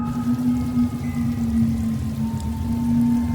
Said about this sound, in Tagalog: Bumuhos bigla ang napakalakas na ulan.